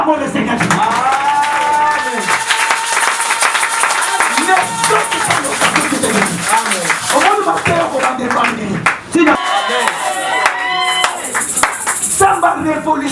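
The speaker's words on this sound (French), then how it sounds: "Si tu es d'accord, acclamons le Seigneur." A church congregation claps and cheers for over ten seconds, a continuous wash of applause with voices calling out and some singing or talking mixed through.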